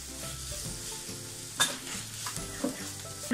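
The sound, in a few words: onions being sautéed in a pan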